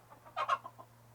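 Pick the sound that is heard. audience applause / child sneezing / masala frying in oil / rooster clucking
rooster clucking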